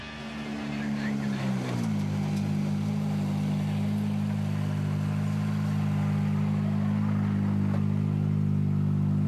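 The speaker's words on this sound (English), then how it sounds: "So the first of our R5 cars to come through within WRC 2." An R5 rally car in the WRC 2 class at the Monte Carlo rally shakedown approaches with a rising engine drone that settles into a loud, steady, sustained hum as it passes through the stage.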